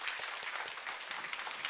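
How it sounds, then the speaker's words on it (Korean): A church congregation claps after a parents' day hymn, a brief, fairly distant patter of many hands clapping in a large room. "우리 감사의 축복을 박수하겠습니다."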